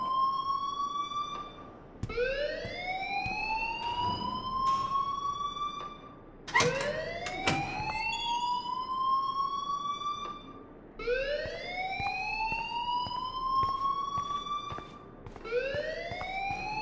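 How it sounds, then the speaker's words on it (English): Rising, wailing siren-like alarm from the video game Life is Strange, sweeping upward repeatedly in loud cycles over a busy background with overlapping layers, no speech over it. "please turn off that alarm since that's your job"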